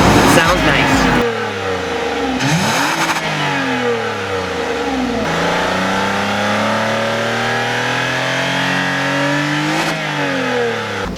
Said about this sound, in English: It also back here has dual exhaust. The nice thing about dual exhaust, it sounds nice.